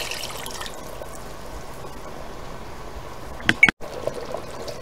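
Water poured into mutton for a Dindigul Thalappakatti-style dum biryani, a steady faint trickling stream throughout, with a brief louder clatter near the end.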